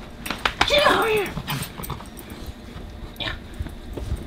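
Dog whimpering in a short high-pitched whine amid scuffling movement and a few sharp taps, close by, followed by quieter shuffling.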